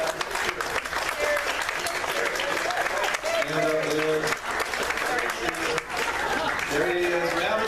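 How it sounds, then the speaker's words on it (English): An audience at a church celebration breaks into sustained, loud applause, a thick wash of clapping with sharp hand claps standing out, while voices and a few sung or spoken tones rise through the crowd noise. "Round of applause."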